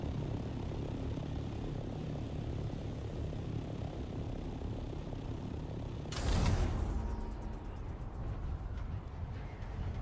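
An aircraft in the game Dune: Awakening drones steadily with a low engine hum, and a sudden loud whoosh about two-thirds of the way through rises briefly over the drone before it settles back.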